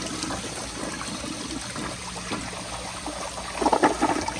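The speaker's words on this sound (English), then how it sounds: "let me go ahead and plug that hole and flush it and see if that improves the flush any or if it reduces the swirl" A Crane Plumbing Galaxy elongated toilet, made in 2000, flushes with one hole in the bowl plugged, giving a steady close rush and trickle of water that swells into a louder gurgling surge near the end.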